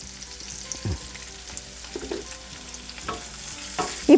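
Curry leaves and asafoetida sizzle in hot oil for rava pongal, a steady close frying hiss broken by a few sharp crackles and stirring clinks, with no voices.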